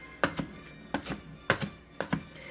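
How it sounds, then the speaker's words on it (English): Knife chops through herbs on a board for chimichurri, four close pairs of crisp thunks in an even rhythm with no talking. "A nice way and an easy way to chop herbs is kind of push it all together here, and then you're going to chop"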